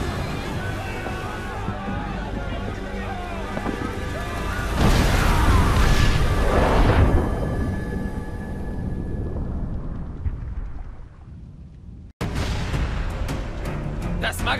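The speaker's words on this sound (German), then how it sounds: "Das Magazin! Es explodiert!" A loud explosion booms and crashes in a video game cutscene where a ship's magazine blows up amid fire, a sustained roaring blast with debris and a sharp cut near the end, with background voices.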